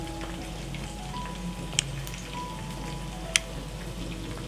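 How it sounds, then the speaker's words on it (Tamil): Chicken 65 deep frying in hot oil, a steady close hiss and crackle with two sharp pops standing out. "பொரிஞ்சிக்கிட்டு இருக்கு."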